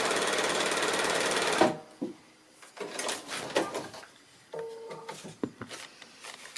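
A sewing machine stitches a foundation pieced quilt block, starting with a fast, loud run of needle chatter that stops abruptly. Quieter clicks, handling knocks and a couple of short stitching bursts follow.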